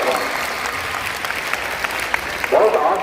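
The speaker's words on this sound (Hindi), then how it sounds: "एक बार तालियां बजाना बोल के मैं रिक्वेस्ट कर रहा हूँ।" Audience at a police cyber crime awareness program at a girls' school applauds for the inspectors, a moderate clatter of hands clapping with a brief louder swell near the end.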